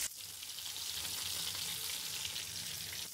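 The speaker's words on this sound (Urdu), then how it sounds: "3 سے 4 منٹ ہم اس طرف سے بھی فرائی کریں گے۔" Besan-coated masala fish fries crisp in a pan of oil with a soft, continuous crackling sizzle, close and even, with no voices.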